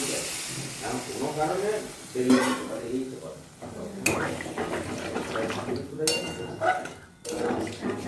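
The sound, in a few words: frying mushrooms and prawns after adding a little water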